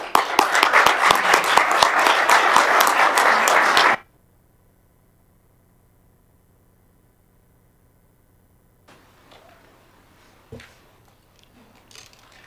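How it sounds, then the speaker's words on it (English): Loud applause from a room full of people at a commission meeting, lasting about four seconds and then stopping abruptly, followed by near silence with faint shuffling and a few small bumps. "and I applaud you."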